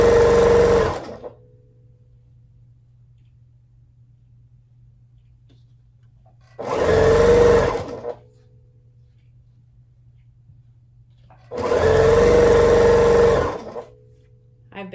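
A sewing machine stitching quilt nine patches runs in three bursts of steady rapid whirring, each a second or two long, separated by quiet pauses with a low electrical hum.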